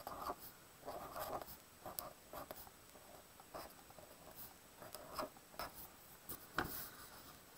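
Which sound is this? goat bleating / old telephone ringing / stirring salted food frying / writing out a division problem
writing out a division problem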